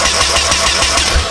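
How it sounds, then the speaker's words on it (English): A turbocharged KA24DE engine swapped into a rear-wheel-drive Honda Civic cranks over on the starter, a loud rhythmic chugging heard close without catching, no talking. "let's crank it and see if they'll spark"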